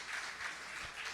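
A church audience at a Sunday service applauds, a soft, distant, continuous patter of many hands that stays low and steady throughout.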